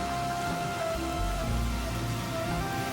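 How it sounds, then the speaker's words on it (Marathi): Heavy rain falls at Khadakwasla Dam near Pune, beside the water among fallen trees, a dense steady hiss with no voices. "पाऊस भरपूर पाऊस आहे."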